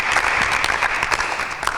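Studio audience applause on a Bible quiz show, dense steady clapping held at an even level through a short burst.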